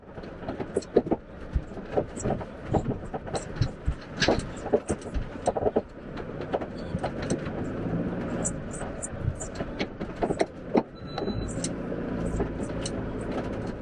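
Mercedes off-highway van rolling along a dirt track in the Mojave Preserve, with a steady road rumble and frequent rattles and bumps from the rough surface, heard from inside the cabin under intermittent talk.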